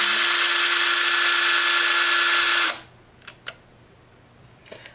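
A Dremel rotary tool deepening a neck peg on an action figure with a 5/16 inch bit whines loudly and steadily at close range, then cuts off, followed by a few faint clicks and taps.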